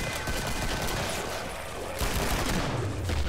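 A fully automatic gun rattles out continuous loud fire in Killing Floor, with dense unbroken bursts and a rising mechanical whine toward the end.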